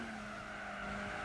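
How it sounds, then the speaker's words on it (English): In Gran Turismo 4, a racing car brake-checks another and its tires squeal and skid under a steady engine drone, continuous and moderately loud throughout with no talk. "he just brake checked that red car."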